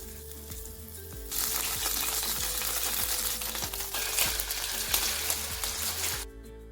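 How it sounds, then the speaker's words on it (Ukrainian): Loud, dense sizzling of chicken frying in a pan, starting suddenly and crackling steadily before cutting off near the end. "Зараз буду її закидати в сковорідочку і смажити."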